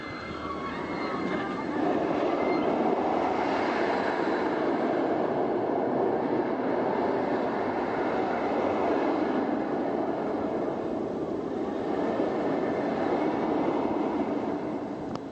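A roller coaster ride at Six Flags St. Louis, a steady loud rumble of wheels on track with rattling and roaring wind, continuous throughout without talk.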